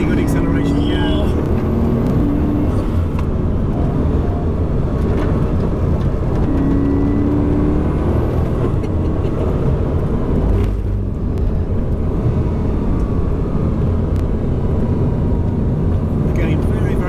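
Onboard a Bugatti Chiron Pur Sport under acceleration, a loud steady engine and road roar filling the cabin continuously, with a person talking over it.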